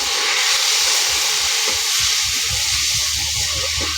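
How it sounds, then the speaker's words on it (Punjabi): Hot water poured into roasting semolina halwa with sugar sets off a loud, steady hiss of steam that fills the whole stretch, close and continuous with faint low bubbling beneath. "ਹੁਣ ਇਹਦੇ ਵਿੱਚ ਪਾਵਾਂਗੇ ਅਸੀਂ ਪਾਣੀ"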